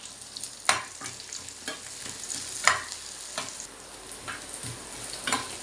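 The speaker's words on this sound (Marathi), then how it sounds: "कांदा ना सोनेरी होईपर्यंत आपल्याला चांगला परतून घ्यायचा आहे" Onions being sautéed in a pan until golden, a steady sizzle of frying broken by several sharp scrapes and clatters as a spoon stirs and turns them, close and fairly quiet.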